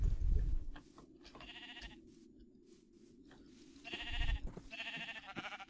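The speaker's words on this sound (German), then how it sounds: "Ah, das sind auch Schafe." Sheep bleat in a Minecraft game, Attack of the B-Team modpack: a low blocky burst at the start, then two or three repeated nasal bleats toward the end over quiet game ambience, with no talking.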